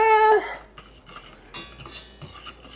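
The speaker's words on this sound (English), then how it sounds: "Oh, the metal on metal gives me the absolute chills." Metal spoon stirring espresso powder in a metal bowl, a ringing scrape at first followed by a run of quick clinking, scraping strokes, close and fairly loud.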